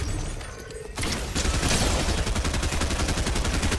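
Gunfire in Fortnite: after a quieter opening, a loud, rapid string of automatic shots starts and keeps going steadily to the end.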